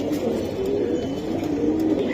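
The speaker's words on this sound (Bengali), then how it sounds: "এই যে আরেক জোড়া কবুতর, খুবই সুন্দর দেখতে" Giribaz flying pigeons coo steadily in a low, continuous murmur, close and fairly loud, with no voices over them.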